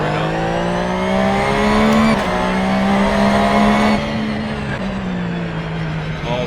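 A NASCAR race car in a sim racing game drones loudly and steadily, the engine pitch dipping and shifting as it brakes, with faint tire noise beneath.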